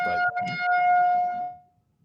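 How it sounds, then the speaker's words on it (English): A wailing siren picked up through a participant's microphone during an online call, a steady tone holding for over a second before cutting out abruptly and leaving near silence. "that siren is really bad"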